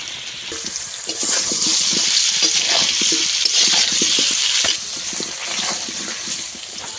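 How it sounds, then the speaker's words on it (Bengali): Potatoes fry in hot oil while chicken is being cooked, giving a steady, fairly loud sizzle and crackle with scattered pops and stirring clicks throughout, without talk. "আলুটাকে ভালো করে ভেজে নিয়েছি"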